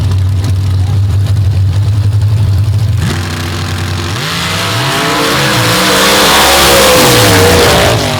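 Drag racing cars at a Mid-Atlantic Racing Association Wicked Fast Opens and Mods event idle loudly on the start line, then rev hard and launch, engine pitch rising as they pull away.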